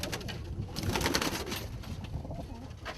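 A dominant opal pigeon at a pigeon show coos close by in soft, throaty rolling calls over faint background murmur.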